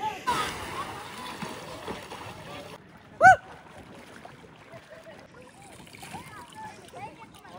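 Cold water splashes at an outdoor bathing spot near Hampi, with a busy burst of splashing early on that gives way to quieter sloshing, a brief sharp tone and some background voices.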